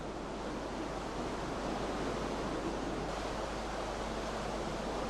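Water rushes in to fill the empty chamber of a river canal lock, a steady, dense roar of churning flow that stays even and loud throughout, with no voices.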